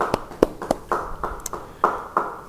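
Applause from a church congregation during a sermon: only a handful of separate, sharp handclaps scattered unevenly, each distinct and close rather than a continuous roar.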